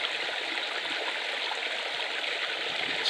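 A river streaming past a micro hydro intake, a steady broadband rush of flowing water, close and continuous with no break and no voices.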